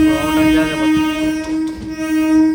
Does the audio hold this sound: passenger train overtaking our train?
yes